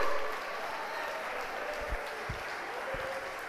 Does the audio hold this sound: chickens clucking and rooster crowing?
no